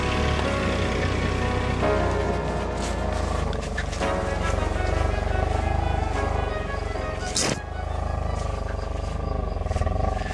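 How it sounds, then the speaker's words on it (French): A 2024 Dacia Duster engine idles roughly with an odd-sounding rumbling exhaust, running continuously and fairly loud, with uneven throaty pulses. "C'est bizarre le bruit à l'échappement"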